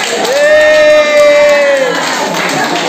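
A crowd at a trail half-marathon awards ceremony cheers for a winner, with a long sustained whoop or whistle rising over the clapping and shouting, loud and close.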